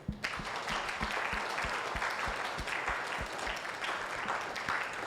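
An audience claps in a steady, continuous burst of hand applause that fills the whole stretch at an even, moderate level, with no talk over it.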